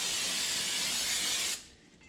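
Brake cleaner sprays hard onto a brake rotor in a steady, loud, close hiss lasting about a second and a half, then cuts off abruptly, leaving a faint residual fizz.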